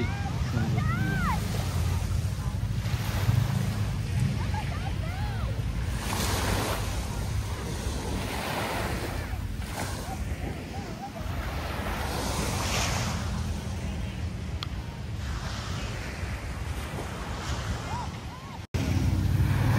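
Steady wind gusting by the sea in Thailand, with surf washing underneath and microphone buffeting; loud and continuous throughout, briefly cut near the end, with people talking at times.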